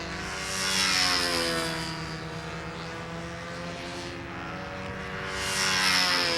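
Model stunt (control line) airplane engine at a national championship contest, a steady buzzing drone that swells louder and fades as the plane circles, continuous through the whole stretch with no talk.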